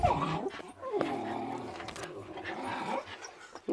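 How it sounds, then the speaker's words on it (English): Dogs growl, whimper and yip excitedly close by in an uneven run of throaty rumbles and sharp short cries, with a few louder bursts toward the end. "Dogs are going a bit crazy."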